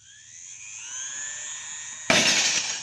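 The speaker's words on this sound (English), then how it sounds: "The glass was shattered." A glass shatters as a sound effect in an old-time Superman radio drama, a bright crash that cuts in suddenly after a rising whining hum and rings on briefly as a loud burst of breaking glass.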